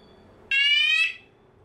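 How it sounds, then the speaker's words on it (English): A siren wired to a Hikvision DVR alarm port blares a loud electronic alarm in a single steady burst of about half a second, then cuts off, leaving faint background hum. "confirm that the siren is functioning"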